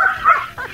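A neighbour's dog lets out a few quick, whiny barks or yips, close and fairly loud, in a brief burst of two or three calls with no talking.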